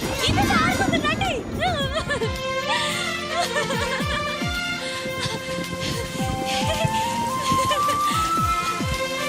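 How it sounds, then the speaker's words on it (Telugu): Rain pouring in a village film scene, a steady patter beneath loud voices calling out and a musical background throughout. "వర్షం వస్తుంది"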